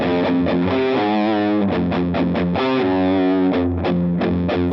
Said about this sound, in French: Comme promis, on a de la guitare électrique et de la distorsion.